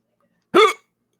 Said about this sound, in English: Oh, Jesus Christ, my hiccups.